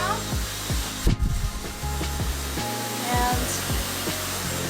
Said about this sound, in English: blow dry my roots up for the volume so it's nice and voluminous.